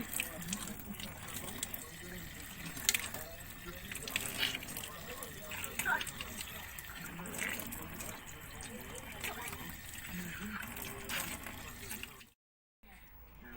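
Water runs steadily from a tap in a village home, a continuous trickling and splashing at moderate distance. Someone talks over it now and then, and the flow stops briefly near the end.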